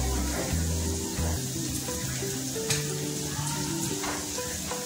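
Okra and onion deep-frying in oil over a low flame give a steady, close crackling sizzle that carries on evenly throughout, with a low musical hum running underneath.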